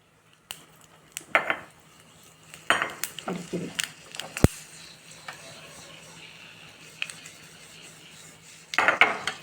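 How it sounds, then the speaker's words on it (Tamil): Mustard seeds splutter in hot ghee with small crackling pops and scattered clinks of metal cookware, with sharper bursts near the start and again at the end. "இது கடுகு வெடிச்சு போட்டுக்கலாம்"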